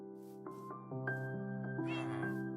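A Minecraft cat meows repeatedly in a sharp, tonal, game-style voice, several short calls in close succession, loud and alone with no talk over them.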